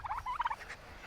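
Heritage breed turkey on a small farm with a meat bird tractor, giving a short burst of rapid warbling gobbles that stays close and moderately loud, then trails off into quiet barnyard background.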